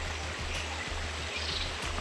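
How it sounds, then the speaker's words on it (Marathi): Calm stream water at a quiet meditation spot, a soft continuous murmur and trickle heard steadily at low level, with a faint low rhythmic hum running underneath. "अतिशय शांत पाण्याचा केवळ खळखळाटाचा आवाज"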